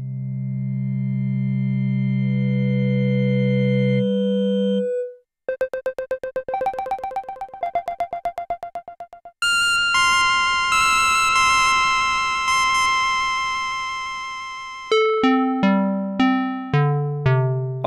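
Internal synth engines of a Polyend Play Plus groovebox: sustained low tones, then rapid stepped melodic sequences and bright bell-like chords, ending in a punchy descending pattern of plucked notes, loud and clean with no voices.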